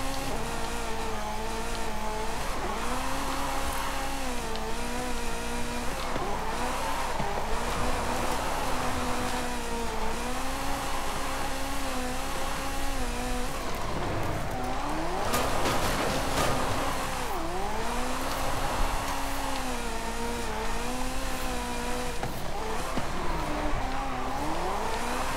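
Ferrari F40 drifting in Forza Horizon 5, its engine revving steadily and rising and falling through shifts, with sustained tire squeal throughout and a brief harsher skid burst midway, loud and continuous with no voices.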